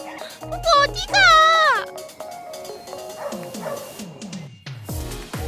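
Samoyed dogs barking in the snow, a burst of several high yips and rising, whining howls close by, followed by scattered shorter barks and a final yelp, with voices talking in between.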